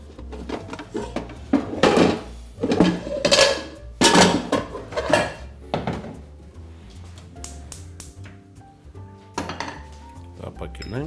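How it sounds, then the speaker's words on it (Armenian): A frying pan is set onto the stove while malfatti are being cooked, giving a run of close metallic clanks, knocks and clinks of cookware in several bursts before the sounds settle into quieter, scattered taps. "Հիմա հենց տապակը կդնեմ վրան։"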